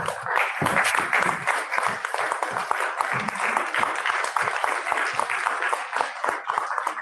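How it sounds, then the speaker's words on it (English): Applause for the winners at a Swarnim Vijay Varsh celebration ceremony, a continuous close patter of many hands clapping together at an even loudness for several seconds. "a huge round of applause for all the winners."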